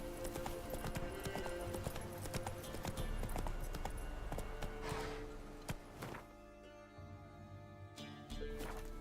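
Hooves of Roach, a horse in the video game Witcher 3, clatter in a fast, steady galloping rhythm up close, with a few heavier thuds and a brief break in the pace.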